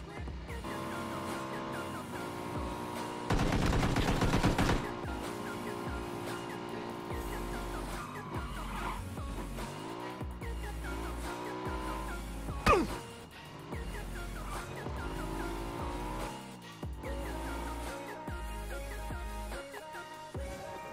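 Motorbike engine in PUBG on Xbox One X, droning continuously with shifting pitch as it accelerates and turns, mixed with rumbling terrain noise and a brief bump, close and loud throughout.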